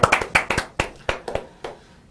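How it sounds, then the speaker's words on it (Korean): A handful of people clapping in a talk-show studio, about ten sharp, separate claps in a loose, uneven rhythm that trail off quickly. "박수 한번 주시죠"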